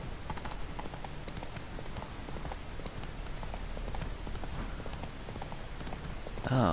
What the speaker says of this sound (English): Onward, my trusty steed.